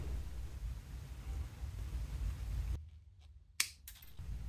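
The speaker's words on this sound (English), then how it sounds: "These cells always come with a little bit extra nickel and aluminium that need to be trimmed." Snips as excess nickel and aluminium tabs are trimmed from a new battery cell, a short crisp cut standing out over quiet background hiss after a steady rumble.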